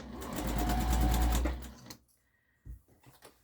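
A sewing machine runs in a steady fast whir for under two seconds while stitching a harvesting apron, close and loud, then stops and is followed by a few soft handling knocks.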